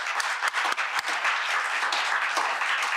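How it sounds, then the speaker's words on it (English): A seminar audience claps in a steady wave of applause, with a few sharper individual claps standing out at moderate volume throughout. "please, a round of applause to all."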